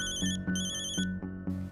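A telephone rings with repeated electronic trill bursts in a steady on-off rhythm, loud and close, with no talking over it.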